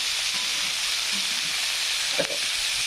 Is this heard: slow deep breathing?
no